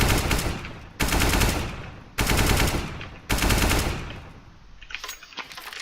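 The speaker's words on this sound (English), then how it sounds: "Just shoot 5 bullets." Rapid automatic rifle fire in Counter-Strike on the Mirage map, four loud sustained bursts of about a second each separated by brief gaps, then a ragged tail of scattered shots.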